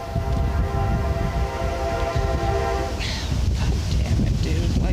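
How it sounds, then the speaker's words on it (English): A train passing outside, heard as a loud continuous rumble with steady tonal hum and wind buffeting the microphone, no talking over it. "a flippin' train is passing by as I'm doing this video"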